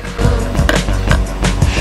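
Skateboard tail pops and wheel clacks during heel flip practice, a run of sharp loud snaps with rolling rumble between them, close by and without talk.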